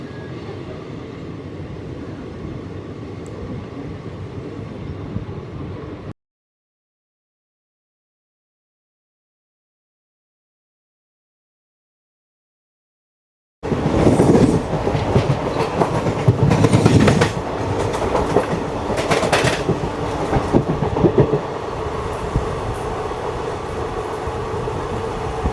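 An express train on the Renigunta–Mysuru run rumbles loudly across the Swarnamukhi river bridge, a heavy continuous clatter broken by a long stretch of silence before the roar returns even louder.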